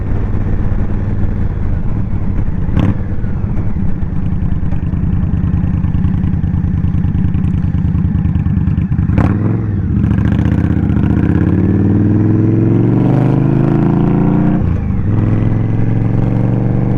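A 2023 Indian Scout Rogue motorcycle engine runs loud and steady while riding, a continuous deep drone with wind roar and rising and falling revs as the bike shifts through gears.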